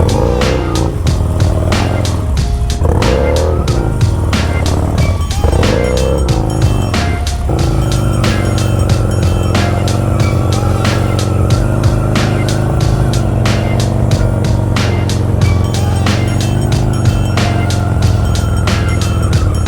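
A car drifting around a lot, its engine revving hard and steady with tires squealing in long bursts, loud and close throughout.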